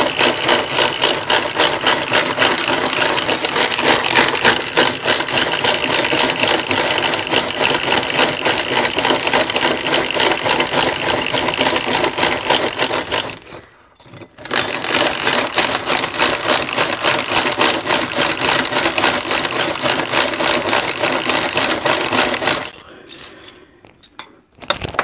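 Eggs are beaten until thick and frothy with an electric mixer whose loud, steady mechanical whir runs continuously, with two brief pauses where the motor cuts out.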